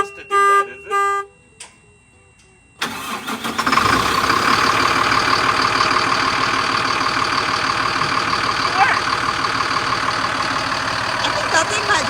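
A school bus conversion's engine cranks and catches after a few beeping dash chimes, then settles into a loud, steady diesel idle that rumbles on, with voices talking over it.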